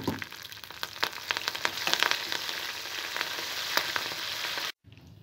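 Tempering seeds, garlic, dried red chillies and curry leaves sizzle in hot oil in a pan, a close, crackling hiss with sharp spattering pops that runs steadily before cutting off abruptly near the end.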